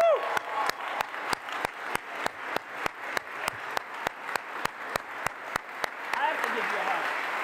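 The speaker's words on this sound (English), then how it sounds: "Jenny, big round of applause." Sustained audience applause at an astronaut crew assignment announcement for the Artemis 2 mission, a steady wash of clapping with a regular series of sharp clicks running through it and a cheer near the end.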